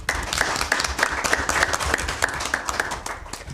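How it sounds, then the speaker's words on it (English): Applause for the winning university team at a televised student debate challenge, lively clapping from an audience with a regular chiming beep cutting through at an even pace. "A round of applause for them"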